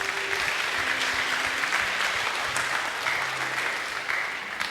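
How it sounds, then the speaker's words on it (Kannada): An audience at a Kannada religious sermon claps together in dense, even applause that stays strong throughout, with no talking over it. "ಅರ್ಥ ಆದವರು ಒಂದು ದೇವರಿಗೆ ಚಪ್ಪಾಳೆ ತಟ್ಟಿ."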